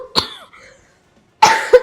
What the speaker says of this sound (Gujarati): ઉધરસ છે તો